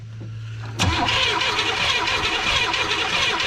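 A 1979 Chevrolet Malibu engine, sitting unstarted for about 20 years, cranks briefly and then catches, jumping into a loud, steady running rumble that holds close and continuous to the end.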